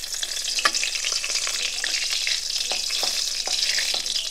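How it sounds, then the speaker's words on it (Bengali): Dried red chillies and bay leaves tempering in hot oil in a kadai for a spicy jackfruit curry, giving a constant close sizzle with scattered sharp crackles and pops and no voices. "শুকনো লঙ্কা তেজপাতাটাকে তুমি আরেকবার একটু ফোড়ন দিলে?"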